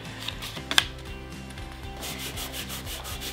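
Repeated rubbing on leather decorated with Cricut gold foil, a rhythmic scratchy back-and-forth scuffing close up with a couple of sharper taps, no voices.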